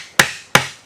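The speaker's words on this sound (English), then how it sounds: "I'm just going to do that the old-fashioned way with a chisel and mallet" A mallet strikes a chisel into wood while cutting a cornhole board joint, two sharp, crisp knocks about a third of a second apart, close and loud, each decaying quickly.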